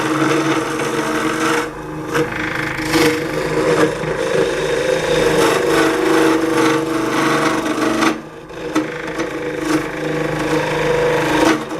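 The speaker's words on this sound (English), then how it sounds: "we just took and switched to the round carbide bit, and we were just cleaning up this edge here" Wood turns on a lathe as a round carbide bit cleans up an edge of a colored pencil pot, giving a steady rasping scrape over the motor hum, loud and near, with a few brief dips.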